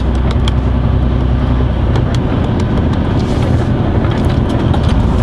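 A truck rolls along the road in a steady, loud cab drone, deep engine and tire rumble mixed with buffeting wind noise, continuous throughout.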